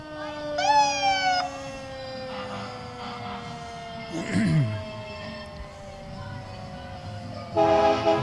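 A Champlain Fire Department truck carrying Santa passes in a Christmas parade, sounding sustained siren and horn tones that slowly fall in pitch, with louder blasts near the start and end over outdoor background noise.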